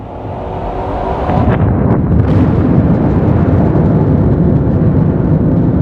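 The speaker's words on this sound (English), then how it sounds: "he was rudely awoken by a cacophonous explosion" A huge explosion sound effect builds into a deep, roaring rumble. Loud, sustained low-frequency blast noise swells and holds for several seconds with no voices.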